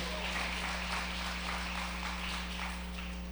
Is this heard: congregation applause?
yes